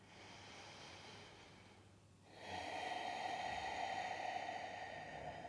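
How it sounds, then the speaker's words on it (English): During a yoga practice for runners, one slow, audible exhale of breath comes close to the microphone, airy and hissing, fading briefly before a louder, steady breathy rush continues to the end, with no talking. "Finding that ease and softness each time you breathe out"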